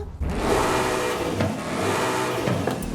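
A 2024 Ford Mustang Dark Horse engine revs loudly and steadily in the racing game Forza Horizon 5, roaring up and down in pitch with gear shifts, synthetic and close, with no voices.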